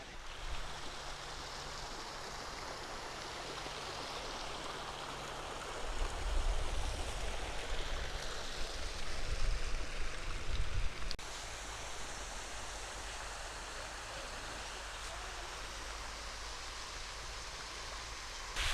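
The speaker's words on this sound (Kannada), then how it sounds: "ಹೇಗಿದೆ ಕಾರಂಜಿ ಕಾರಂಜಿಯ ಬುಗ್ಗೆಗಳು ನೋಡ್ತಾ ಇದ್ದೀರಲ್ಲ" Water fountain jets at Brindavan Gardens below the KRS Dam make a steady, broad rushing hiss that swells louder in the middle and then settles back.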